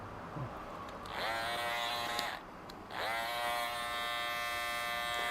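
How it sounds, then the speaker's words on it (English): Electric hair clippers buzz steadily through a men's haircut as the corner of the blade works up a taper. The motor drones nearly the whole time with one brief drop partway, close and even, with no talk. "So I'm just using the corner of the clipper blade and just working my way up"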